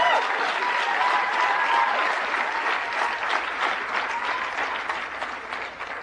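Steady applause from a large crowd at a youth vote campaign keynote at Harvard, dense and sustained clapping throughout with a faint murmur of voices underneath.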